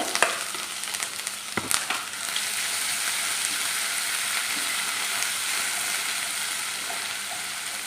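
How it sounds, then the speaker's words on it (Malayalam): Ginger-garlic paste sizzles and fries steadily in hot oil for a mango and bitter gourd pickle, a continuous close crackling hiss after a few stirring clinks at the start. "ഇഞ്ചിയും വെളുത്തുള്ളിയും കൂടെ നമ്മൾ ചോപ്പറിനകത്തിട്ട് ചോപ്പ് ചെയ്ത് വെച്ചിരിക്കുന്നതാണ് അതൊരു രണ്ടര സ്പൂൺ ഇട്ട് കൊടുത്ത്"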